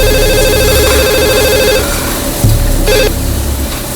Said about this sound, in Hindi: मैं वहां फोन करके देखता हूँ।